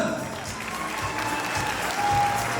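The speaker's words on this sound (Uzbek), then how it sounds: "Qani bir chiroyli qarsaklar bo'lsin." A crowd at an Uzbek wedding celebration claps in a steady, dense wash of applause, with a voice talking over it.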